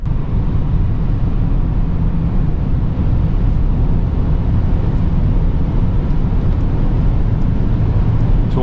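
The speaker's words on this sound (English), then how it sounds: "we have a lot of wind noises, which I think is pretty normal with this car here" Wind noise inside a 2023 Mercedes EQS 580 electric SUV at high speed, a loud, steady, dense roar with road rumble that holds unchanged throughout.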